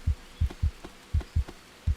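A deep thudding heartbeat from the survival video game Green Hell repeats in paired beats, loud and close, with no voices.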